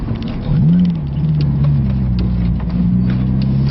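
A Honda Civic EP3 Type R engine pulls hard in second gear, a steady, loud, rising engine tone that swells after a brief dip and holds strong close to the microphone throughout.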